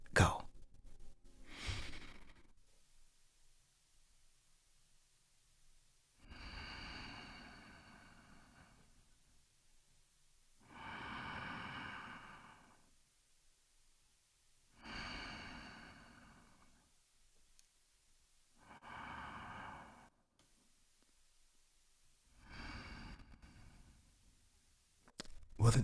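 Slow, deliberate breaths during a guided breathing exercise in a meditation session, with about five long, soft inhale and exhale swells spaced evenly apart against near silence, faint and close.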